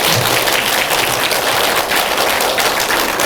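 A church congregation claps together in blessing for a departing member, a loud, continuous wash of applause that holds steady for over three seconds.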